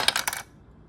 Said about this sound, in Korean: 동전, 넣어.